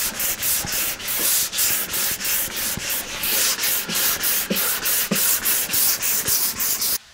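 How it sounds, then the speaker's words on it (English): A wooden cornhole board is sanded smooth with steady, harsh back-and-forth rubbing strokes in a fast regular rhythm, loud and close, with no talking. "Now I got it all sanded."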